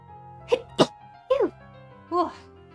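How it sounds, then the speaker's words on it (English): One sudden sneeze bursts out close to the mic among short vocal sounds, with background music playing underneath. "I did sneeze."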